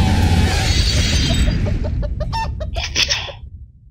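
Repeated cartoonish clucking from a giant chicken in the racing game Shock Driver Extreme, heard close and loud over a steady low game rumble, with sharper clucks clustering toward the end.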